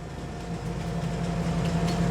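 A train in Farming Simulator 25 rolls past on the Riverbend Springs map with a steady, fairly loud mechanical rumble and a low droning hum that builds slightly over about two seconds, with no talking.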